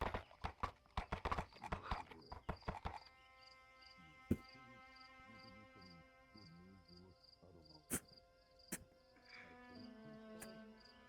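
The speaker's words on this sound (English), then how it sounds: "Yeah, I see the horses right there." Horse hooves clip-clop in a VRChat roleplay scene, a rapid cluster of close, loud hoofbeats at the start, then scattered single clops over a steady tonal game ambience with insect-like chirping.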